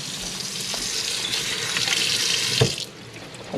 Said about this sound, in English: wash my hands to get the residue off